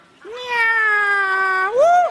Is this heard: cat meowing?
yes